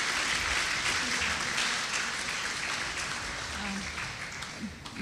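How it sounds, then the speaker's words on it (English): Audience applause at an evening gathering in Toronto, a dense steady clapping from a crowd that tapers slightly toward the end. "Round of applause, please"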